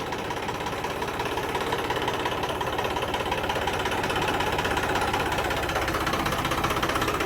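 A tractor engine idles nearby with a dense, continuous knocking rumble that keeps an even loudness throughout, and no voices cut in.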